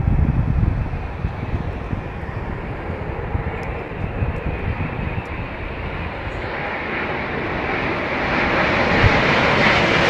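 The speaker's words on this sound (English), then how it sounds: "See, pointing the aircraft in to the left there." A fixed-wing airliner on its landing approach to London Heathrow Airport gives a steady, loud, broadband roar that holds for the whole stretch and swells a little toward the end, with some wind noise mixed in.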